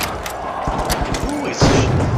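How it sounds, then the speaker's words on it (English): Two grenades go off in The Finals, a destructible-arena shooter: a first muffled blast early, then a louder, rumbling second explosion near the end, amid gunfire and game noise with someone talking. "Throwing two grenades."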